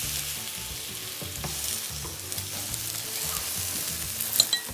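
Korean savory pancake batter being mixed around in a hot oiled pan, giving a steady close sizzle with soft scraping strokes and a brief louder clatter near the end; no one speaks.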